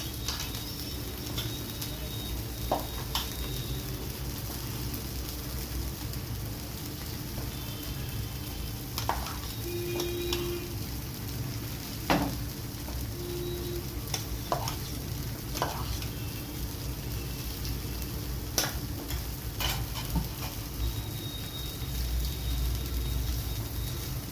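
Masala dosa batter spread with ghee sizzles on a large hot griddle, a steady close frying hiss with occasional scrapes and clicks of a spatula, and no talking.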